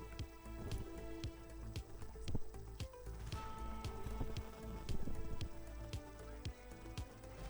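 Monsoon rain falling in Surat, a dense steady patter of drops on hard surfaces with scattered louder splats, fairly faint and continuous, with no voices.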